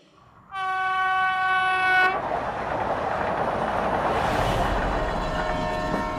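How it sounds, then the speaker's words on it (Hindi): A train running at full speed, with a loud horn blast sounding first and then a steady, continuous roar of wheels and carriages rushing along the rails. "ट्रेन फुल स्पीड में दौड़ रही थी।"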